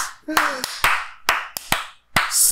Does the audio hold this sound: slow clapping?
yes